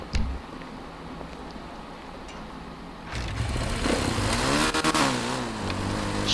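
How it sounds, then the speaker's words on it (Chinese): Motorcycle engine in GTA 5, a 400 model, revving up with a mid-pitched whine that rises and falls after a quieter stretch, loud and alone without speech. "来，我用看这个摩托车 ，motorcycle， 有400。"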